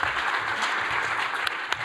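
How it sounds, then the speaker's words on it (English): An audience at the AusCERT2019 speed debate applauds, a continuous even wash of clapping with a few sharper individual claps standing out near the end. "give him a round of applause"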